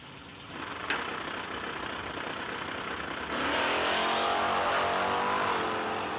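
Drag racing cars at a no-delay nationals meet roar side by side, a steady mid-pitched engine drone that swells louder partway through as the cars pass closer, with no talk over it.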